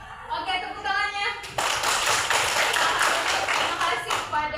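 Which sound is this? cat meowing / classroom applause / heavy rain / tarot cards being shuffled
classroom applause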